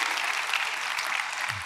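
Audience applause at a tech conference talk, a steady dense wash of many hands clapping that fills the short moment at even loudness.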